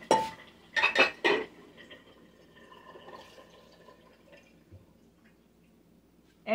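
A metal pot with stuck-on food is handled in a kitchen sink: a few loud clanks and scrapes at the start, then quieter rattles and dripping water.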